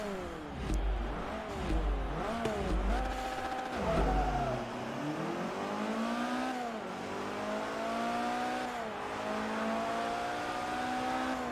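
Ford RS200 engine in Forza Motorsport 3 drag racing, revving hard through repeated gear shifts with rising and falling pitch, loud and continuous with no talk.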